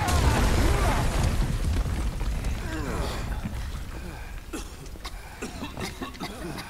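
A loud, rumbling blast from doors being blown open in Final Fantasy 7 Remake, with heavy low-end roar that slowly decays over several seconds while scattered debris clatters and pops toward the end.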